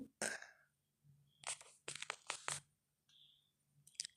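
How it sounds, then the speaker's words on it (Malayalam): Two-month-old goat kids chew and bite at their feed up close, giving irregular bursts of crunching and crinkling separated by short quiet gaps. "ഇതാ അവർ കടിച്ചമിച്ചൊക്കെ അങ്ങനെ തിന്നണുണ്ട്"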